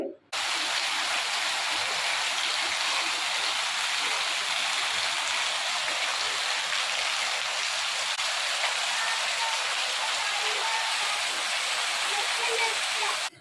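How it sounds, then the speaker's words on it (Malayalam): Heavy rain pours down in a steady, dense hiss that does not let up. "നല്ല പെരും മഴയാണ് കേട്ടോ, നിൽക്കാതെ മഴ പെയ്യാണ് നമ്മളെ നാട്ടിൽ"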